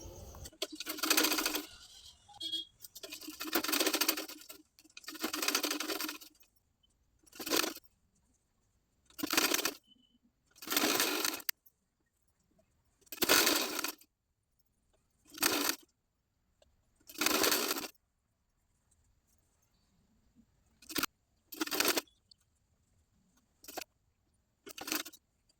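Sewing machine stitching sleeves onto a blouse, heard close up in about a dozen runs of rapid mechanical whirring, some long and some short, each separated by brief silent pauses.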